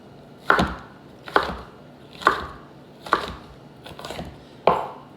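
A knife chops vegetables into small pieces for a tuna stir fry on a cutting board, six crisp, evenly spaced thuds about a second apart, close and clear with no talk.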